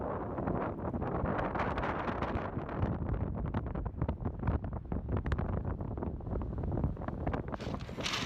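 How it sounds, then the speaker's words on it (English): Strong coastal wind at St Bees in Cumbria buffets the microphone in a constant low roar with gusty rumbling, loud and close, with no voices present. "it's windy as anything again"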